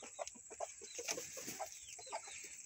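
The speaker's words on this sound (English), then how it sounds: "Who's clucking?" Hens by a backyard coop cluck repeatedly in soft, irregular bursts, fairly close but quiet, with steady background hiss and no talking.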